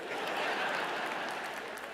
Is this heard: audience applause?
yes